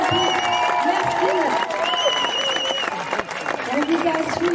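A crowd in Paris applauds Paralympic athletes, continuous clapping and some cheering running under a speaker's voice throughout.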